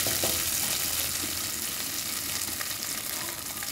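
Garlic sautés in a pan with a steady, broad frying sizzle that holds even throughout, loud and close, with no one talking.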